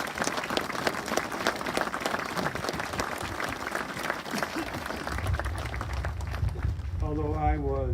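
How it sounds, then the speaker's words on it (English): An audience at a war memorial dedication ceremony gives a sustained round of applause, dense clapping at even loudness throughout, with a short musical phrase entering near the end. "please stand for a big round of applause for Steve Simon"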